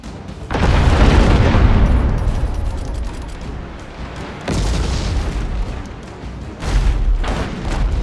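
In the naval video game Abandon Ship, heavy ship cannon fire and a ramming impact roll out as loud, deep booming blasts, three big surges with long rumbling decays layered over one another.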